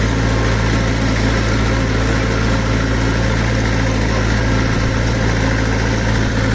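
A heavy diesel tractor engine runs steadily and loudly throughout while pulling a plough through dry black soil, a constant low droning hum with no pauses or voices.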